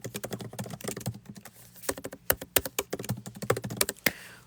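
Fast typing on a computer keyboard, close and crisp, with quick irregular bursts of key clicks, a brief lull, then a flurry of sharper taps ending in a louder keystroke.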